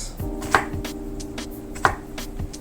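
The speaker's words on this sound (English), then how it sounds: "first chop them into thin slices, but then not cut it all the way through" A knife chops vegetables into thin slices on a board at a solo camp cooking setup, giving several sharp, separate, close knocks at an uneven pace over a steady low hum.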